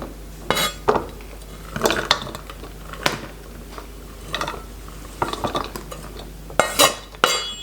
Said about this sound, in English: I'm gonna transfer this to a bowl.